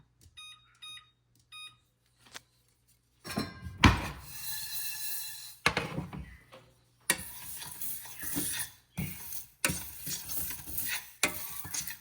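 Ingredients for a mixed vegetable pickle roasting in a pan, with intermittent bursts of stirring and sizzling broken by pauses, preceded by a few faint electronic beeps.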